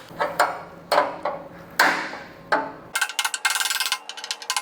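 Aluminum EMPI fan shroud spacers being fitted on a VW stroker engine, a series of sharp metallic knocks and taps spaced about half a second apart, then a quick run of rapid clicks and rattles, close up with no talking.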